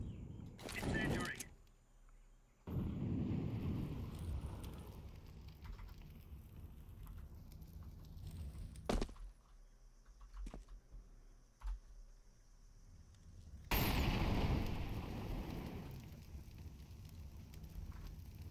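An incendiary grenade burns in Counter-Strike with crackling, roaring bursts of fire that rise and fall in loud waves, mixed with game noises and keyboard clicks while a player talks.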